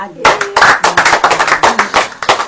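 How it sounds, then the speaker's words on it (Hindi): Loud, rapid rhythmic hand clapping from a church congregation during a preaching service, with a voice sounding over the claps throughout. "यही आत्मा, ताली बजाओ,"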